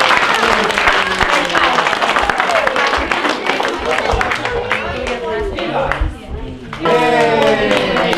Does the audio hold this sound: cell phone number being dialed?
no